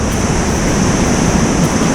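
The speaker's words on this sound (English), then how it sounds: "you see how the waves break and roll in" Sea waves break and roll onto a shore at a sea bass fishing spot in steady, continuous surf with wind noise. The roar stays loud and close throughout, with no talk.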